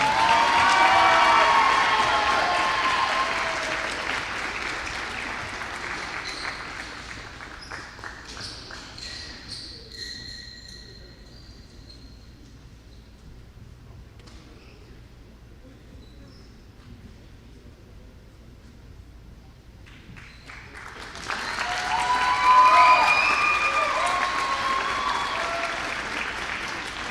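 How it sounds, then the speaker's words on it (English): A crowd applauds a basketball player's 1,000-point milestone on senior night: loud clapping and cheering that fades to near quiet, then swells again into a strong burst near the end. "Let's give him one more round of applause."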